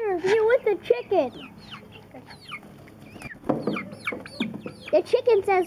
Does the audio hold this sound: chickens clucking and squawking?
yes